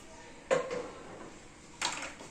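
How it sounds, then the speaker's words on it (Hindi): A pressure cooker holding mutton trotter stock is opened in a home kitchen: two quiet metallic clunks and scrapes of the lid, about a second apart, set against near silence. "घंटे बाद अब हमने कुकर को खोलते हैं।"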